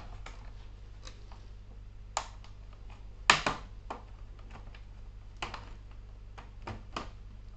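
Sharp plastic clicks and snaps come at irregular intervals as the keyboard is pried out of an Asus X751SA laptop that had been dropped in a lake, one louder crack midway, over a low steady hum.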